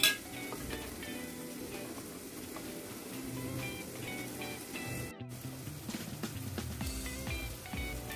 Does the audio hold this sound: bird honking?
no